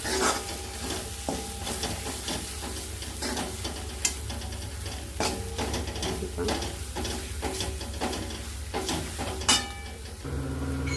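Ground black peas being stirred into masala in a pan for a Konkani-style black pea usal, with steady close scraping and stirring over a soft continuous sizzle, no talk.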